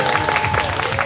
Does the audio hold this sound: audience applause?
yes